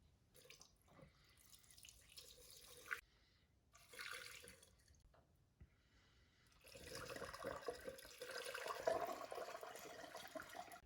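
Berryman's solution is poured into the spark plug holes of an Audi engine's cylinders, faint liquid trickles and drips in short bursts separated by pauses, then a longer, steadier pour near the end.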